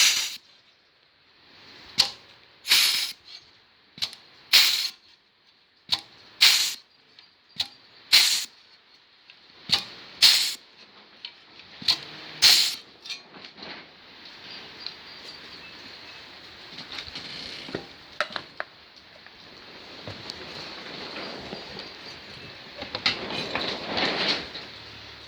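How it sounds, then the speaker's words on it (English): A hand flange tool crimps over holes in a scrap sheet metal panel, producing a series of sharp, loud snapping clicks at an irregular pace, then quieter scraping and rustling. "we're just going to flange right over these holes because it's just a scrap piece"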